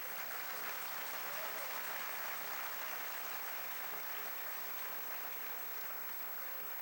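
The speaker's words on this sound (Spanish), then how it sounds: "Un aplauso a Cristo." A church congregation applauds for Christ during a Spanish-language sermon, a continuous, fairly distant and soft roar of many hands clapping that holds evenly for several seconds.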